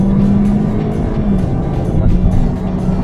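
A Toyota Corolla Touring Active Ride with a 2.0-litre engine cruises at night, its steady engine hum and road noise droning continuously from inside the cabin.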